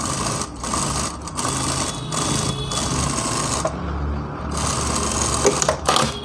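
A sewing machine stitches a blouse in a tailor's shop, running in steady whirring bursts with short pauses between runs, loud and close.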